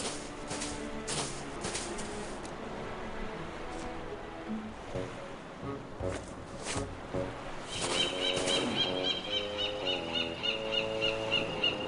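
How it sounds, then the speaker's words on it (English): A parrot squawks in the video game Escape from Monkey Island: bright, harmonic bird calls stack up over steady surf-like ambience and game music, growing louder and more insistent in the second half. "Kinda sounds like a parrot."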